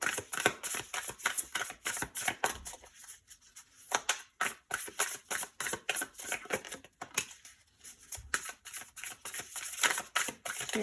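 Continuous crisp riffling and flicking of tarot cards being shuffled by hand, close and busy, with brief pauses between bursts.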